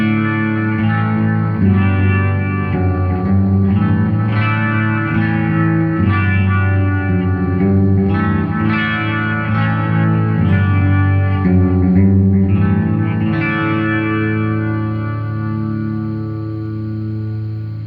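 Electric guitar fitted with Seymour Duncan pickups playing a clean tone with heavy delay, sustained chords and notes ringing with echoing repeats, loud and continuous with no voices.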